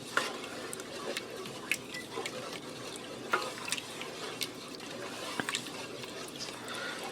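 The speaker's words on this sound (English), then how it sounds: "Give that a stir." A spoon stirs sugar into liquid inside an Instant Pot, giving soft scraping and sloshing with a few light clinks against the metal pot, close but quiet, with no voice.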